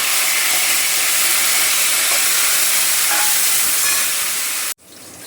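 Tomatoes sizzle in a pan with cumin, garlic and curry leaves, giving a steady, fairly loud hiss with a few faint clinks, cutting off abruptly near the end into a quieter hum; no talking.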